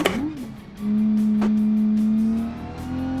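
A Group A race car engine in BeamNG drones loud and close, settling from a throttle blip into a steady high hum that eases off, then picks up again.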